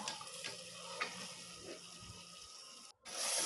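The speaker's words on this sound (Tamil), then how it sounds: "தக்காளி நல்லா வெந்ததுக்கப்புறம் மூணு டம்ளர் அளவு தண்ணி ஊற்றிக்கலாம்" Water runs steadily into a cooking pot of sautéed tomatoes for rice and lentil dish, a continuous splashing pour that stops abruptly near the end.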